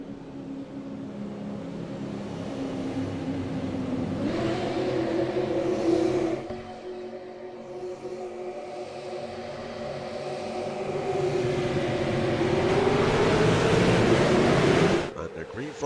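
Super Late Model race cars in the iRacing game roar off at the green flag at USA International Speedway, a pack of engines droning and swelling over about sixteen seconds while a commentator talks.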